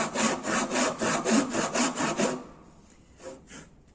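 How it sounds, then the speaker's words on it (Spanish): Hand saw cutting an angled kerf in wood down to the base of a tenon, about ten quick rhythmic rasping strokes that stop midway, followed by a few faint scrapes. "este aserrado inclinado tengo que hacerlo hasta llegar a la base de la espiga"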